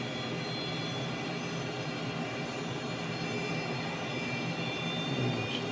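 CT-114 Tutor jet engine in a VR flight simulator spooling up: a continuous, even turbine roar and whine holds steady throughout, fairly quiet and with no talk.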